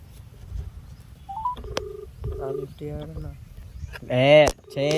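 A phone number is dialed on a handset, giving a run of short keypad beeps and longer tones followed by a louder voice-like sound near the end.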